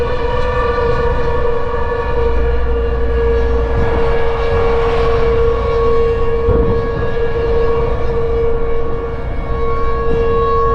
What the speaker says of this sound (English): Sirens going off there.